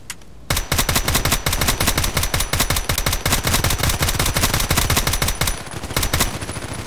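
Sig Sauer MPX submachine gun in the Contract Wars game on the Parkside map, firing a loud, sustained automatic stream of rapid, evenly spaced shots for several seconds before cutting to quieter ambience.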